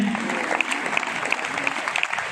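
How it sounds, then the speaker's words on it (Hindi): An audience at a business meeting applauds loudly, a sustained, even roar of many hands clapping together with a few sharper claps standing out, holding steady throughout. "आपकी जोरदार तालियों के साथ"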